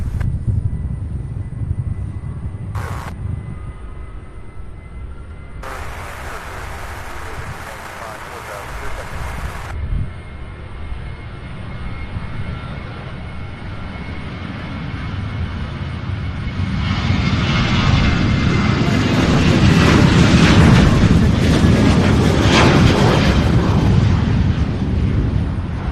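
A jet airliner takes off at Louisville's SDF airport, its engine roar swelling from a distant hum to a loud, sustained thunder over the last seconds, with occasional faint radio chatter and voices early on.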